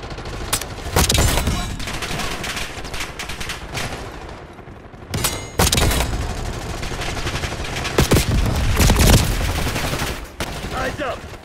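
Automatic gunfire from Black Ops 6 multiplayer, with an AK-74 and grenades in play: dense, loud bursts of rapid shots rattle nearly throughout, with a short lull midway before the firing resumes.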